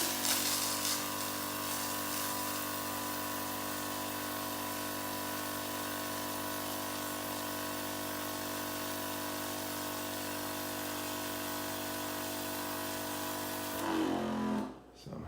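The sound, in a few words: sprayer pump spraying water through nozzle assembly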